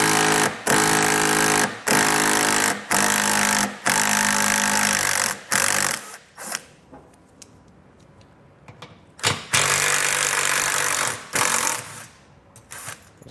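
A power driver removes 10mm underbody panel fasteners on a 2019 Tesla in repeated short whirring bursts, each a second or so long, separated by brief pauses and a longer quiet stretch, close and loud with no talk.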